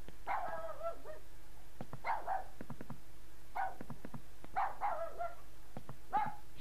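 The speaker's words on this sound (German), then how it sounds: "Ein Gebelle ist das." A dog in the video game Rule of Rose barks repeatedly in short clusters of sharp barks and yips, moderately loud against a steady low game ambience, with no voices.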